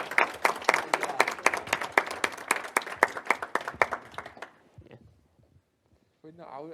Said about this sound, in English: I was trying to clap for doing that because that's fucking impressive